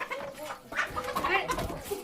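Chickens on a farm cluck and squabble at feeding time when rice is scattered, a close, busy jumble of short calls with a voice mixed in.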